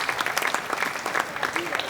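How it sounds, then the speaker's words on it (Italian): Audience applause in an outdoor piazza at a tribute band concert, a crowd clapping steadily with some voices mixed into the clapping. "facciamo un bel applauso"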